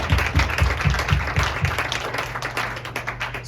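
A church congregation applauds during a French-language service. Several rhythmic unison claps ring out at first, then give way to a dense, steady wash of clapping, with a low hum underneath.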